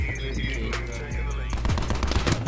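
Call of Duty gunfire in a multiplayer match: a quick automatic burst, then a louder, denser flurry of close shots in the final second.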